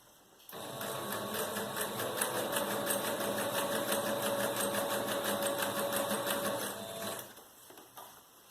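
A domestic sewing machine stitching a hem on fabric, a fast steady mechanical whir and rapid needle clatter running for several seconds, close and moderately loud, starting and stopping abruptly.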